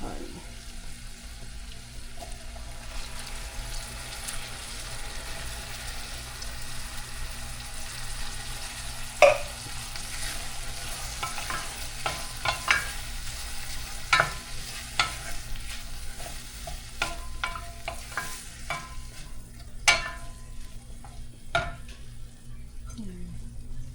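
Pork bistek with carrots and whole corn frying and being stirred in a pan, a steady soft sizzle with occasional clinks of utensil on pan, and a voice talking now and then.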